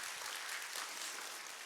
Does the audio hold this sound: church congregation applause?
yes